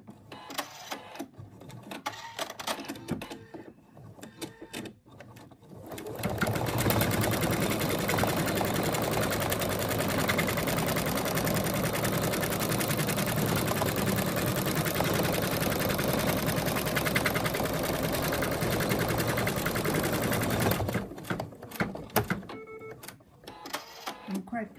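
A home embroidery machine stitches an in-the-hoop zipped ladybug purse, a steady dense mechanical whirr running continuously for about fifteen seconds before stopping, with quieter clicks and handling noise before and after.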